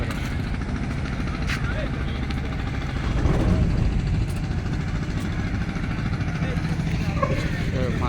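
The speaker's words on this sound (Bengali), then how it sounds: "এই যে ট্রলার আসতেছে" A fishing trawler returning from hilsa fishing approaches at the Chandpur river mouth, its engine a steady low rumble that swells slightly partway through, with people talking over it.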